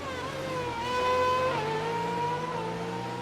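Engine whine of F1 2019 race cars on a formation lap in the video game at the Belgian Grand Prix, a steady close-up tone with rising and falling revs and no talking.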